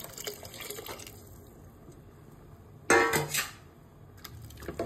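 A short burst of water splashes and pours into a pressure-cooker pot of rice for khichdi, loud for about a second, amid quiet kitchen background.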